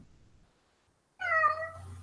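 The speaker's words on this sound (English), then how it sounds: "my cat's meowing" A house cat lets out a single drawn-out meow, close and fairly loud, after a moment of near silence and faint low rumble.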